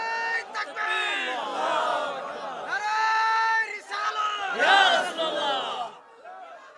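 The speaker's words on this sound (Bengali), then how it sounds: "কারা কারা রাজি আছেন একটা হাত তুলে স্লোগান লন ইনশাআল্লাহ" A large religious gathering chants a slogan in unison, with loud, drawn-out voiced calls rising and falling in several waves and ending in silence.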